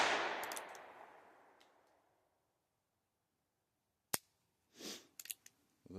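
.22 Magnum rifle shots at evening plinking, heard from the shooter's position: one loud crack ringing out and decaying slowly, then after a silent stretch another sharp shot, followed by a rustle and a few clicks.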